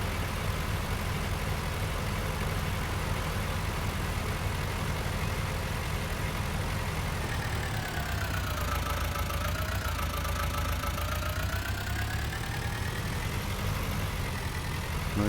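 A tractor engine idles in Farming Simulator 19, a steady mid-low mechanical drone that stays loud and constant, with a faint tone gliding down and back up partway through.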